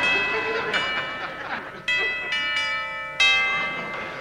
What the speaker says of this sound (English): That must be my bell.